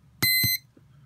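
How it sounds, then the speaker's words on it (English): An AcuRite 00986 digital thermometer alarm gives two short, high electronic beeps in quick succession, close and clear over a faint low hum. "I'm going to turn the alarm off. I don't want to hear it."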